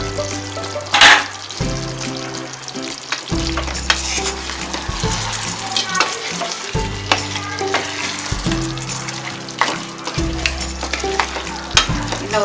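Chicken varuval frying in oil under a lid: a loud, continuous crackling sizzle with scattered pops, over a low steady droning tone, with no talking.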